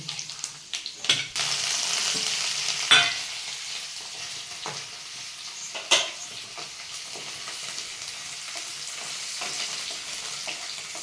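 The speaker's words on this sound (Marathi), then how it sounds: "जिरी मोहरी कढीपत्ता चांगला तरटून द्यायचा ना हिंग टाकायचं" Cumin, mustard seeds and curry leaves sizzle in oil as they are sautéed, with a steady frying hiss punctuated by a few sharp scrapes and clatters of stirring. No one speaks.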